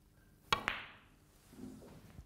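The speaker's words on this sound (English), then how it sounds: "Plain ball shot, I'm going to screw off that red, just a matter of 6 or 7 inches" A snooker cue strikes the cue ball for a screw shot off a red, giving two quick close clicks of cue tip and ball contact, followed by a soft rolling rumble on the cloth.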